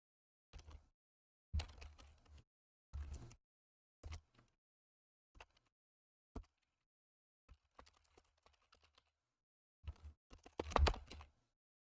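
Someone typing code on a computer keyboard in short, irregular bursts of clicky keystrokes with quiet pauses between them, close and fairly faint.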